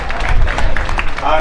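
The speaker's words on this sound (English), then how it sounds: "please let us clap." Council members clap at a special sitting held under hot canopies, a short burst of dense, steady applause that runs without pause and mixes with voices in the gathering.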